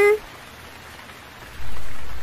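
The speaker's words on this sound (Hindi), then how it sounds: "टुनटुनी, तुम इतनी बारिश में साथ वाले जंगल में कैसे जाओगी?" Cartoon rain falling in a forest, a steady soft hiss of rainfall that swells louder near the end after a brief tonal note at the start.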